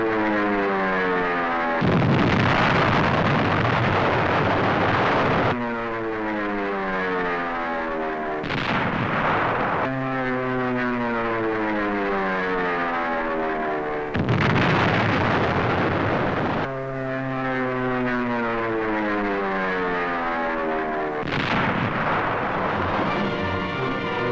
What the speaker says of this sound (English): Now Mount Suribachi is smeared by Navy dive bombers.